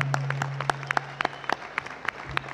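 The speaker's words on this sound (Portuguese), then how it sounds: "eu quero pedir aos senhores, às senhoras, uma salva de palmas a estes guerreiros que estão aqui." An audience at a political symposium applauds, a sparse scattering of individual claps at a moderate distance, without talk.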